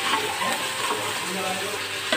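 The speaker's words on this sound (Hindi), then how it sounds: "अच्छी तरह से भून लेंगे चने को ऑयल के साथ" Black chickpeas stir-fried in oil with coriander and black pepper powder, a close, steady sizzle with light stirring throughout.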